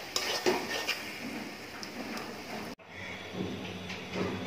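A pot of egg curry is lifted off the stove with close, clinking metal clatter and a scrape of utensils, followed by quieter rattles after a brief cut.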